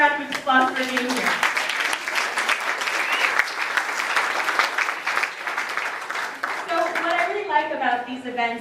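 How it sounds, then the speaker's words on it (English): Audience applause at a political rally speech, a sustained wash of clapping from a crowd that swells and fades, with the speaker talking at the start and end. "give yourselves a round of applause for being here"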